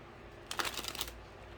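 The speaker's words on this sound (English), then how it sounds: "Let me give this a better shuffle." A deck of tarot cards riffled and shuffled during a reading, a dense papery burst of flicking cards lasting about half a second, close and fairly quiet.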